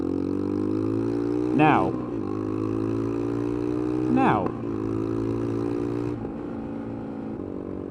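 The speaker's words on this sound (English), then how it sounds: "So I'm having to go by the sound of the bike." A motorcycle engine fitted with new sprockets holds a steady loud drone close by, rising in pitch and then dropping sharply twice as it shifts up through the gears, while a brief word is spoken.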